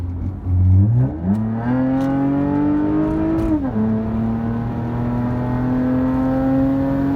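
A 2019 Toyota Avalon fitted with a 9-Drive accelerates from the inside, its engine tone climbing steadily in pitch, dipping briefly at a shift, then rising again as a smooth, loud, continuous hum.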